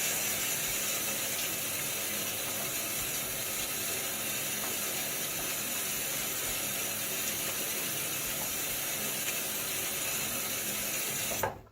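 Water runs steadily from a tap as a razor is rinsed between passes during a wet shave, a constant broadband hiss and splash that continues alone for the whole stretch before cutting off at the end.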